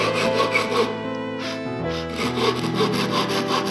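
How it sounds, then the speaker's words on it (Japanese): A hand saw rasps through a wooden kamaboko board in repeated back-and-forth strokes, close and steady, with a brief pause midway. "左手で板を持って、ノコギリを立てるようにして、ゆっくりと引いていきます"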